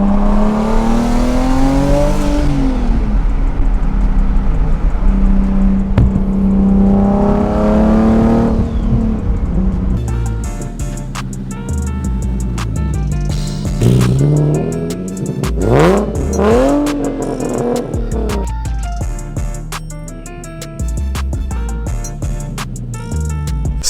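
Turbocharged Nissan 370Z engine revving hard, rising and falling in repeated loud sweeps with crackling bursts, close by and with no talk.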